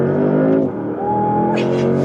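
A 2024 Porsche Panamera accelerating, its engine droning loud and close from inside the cabin, with a short dip in the middle before the note rises again as the car pulls away.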